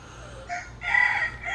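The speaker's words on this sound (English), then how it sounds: "yeah, you could probably hear the darn rooster." A rooster outdoors crows once, loud and near, its call rising and holding over faint background noise with no talk.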